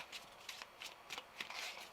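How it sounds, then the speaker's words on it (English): Thick textured tarot cards are shuffled by hand, a quiet series of soft riffling flicks in an irregular rhythm, close and faint with no talking. "So I have to shuffle like this,"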